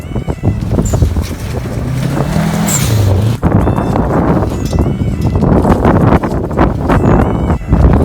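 A Subaru Forester rally car engine revs and rumbles nearby at a rallycross event, pitch rising and falling as it passes, with a sharp shift midway and road noise throughout.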